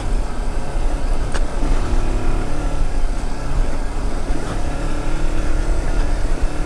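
Motorcycle climbing a steep, rough, bumpy uphill trail on the Campos do Quiriri, engine droning loud and close throughout with steady revving and a few clunks from the uneven ground.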